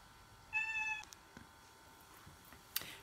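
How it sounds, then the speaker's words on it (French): A cat gives one clear, close meow lasting about half a second in a quiet indoor room, followed by a few faint knocks and a brief soft rustle. "Je vais aller donner à manger à ce chat."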